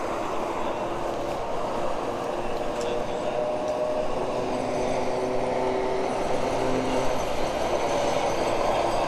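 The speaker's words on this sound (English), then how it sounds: "here comes a tram" Tram pulling into a station in Porto, a loud, steady rumble with metallic squeals and hums rising as it arrives, heard up close beside the street.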